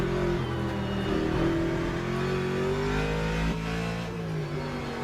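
A Ford GT3 race car engine in the Le Mans Ultimate racing game drones with a deep, bassy, steady roar that swells slightly as it revs, loud and continuous with no voices.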